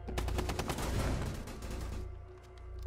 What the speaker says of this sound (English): Oh, he has a shotgun.